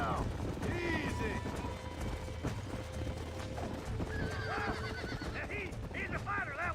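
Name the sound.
wild horse neighing in Red Dead Redemption video game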